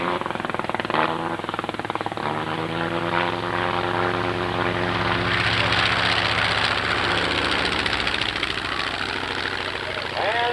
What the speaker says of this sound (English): Here comes the Black Baron in his Fokker triplane, rumbling down the runway